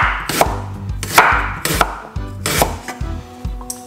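A knife chops fresh ginger on a cutting board for a cucumber lime detox juice, five or six sharp, close, loud strikes in an uneven rhythm with no talking.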